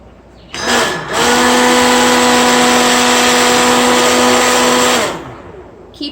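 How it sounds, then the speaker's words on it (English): A loud, steady immersion blender motor whine runs for about four seconds while making mayonnaise, then cuts off, leaving quiet room tone. "Keep the blender at the bottom of the cup until you hear the motor stressing."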